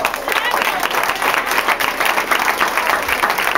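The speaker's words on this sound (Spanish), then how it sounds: "Un aplauso a Cristo en esta hora." A Spanish-speaking church congregation claps loudly in praise during a sermon, a dense, close, continuous round of applause with crowd murmur beneath it.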